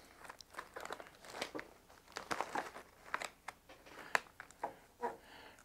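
Quiet, close-up scissors snipping the corner of a sealed plastic vacuum bag, crinkling plastic, irregular cuts and rustles with short pauses between them.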